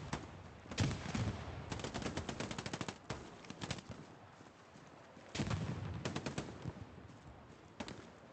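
Machine gun fire on Omaha Beach in the game Hell Let Loose, with rapid bursts of automatic shots at a moderate distance, some sustained rattles and pauses between volleys.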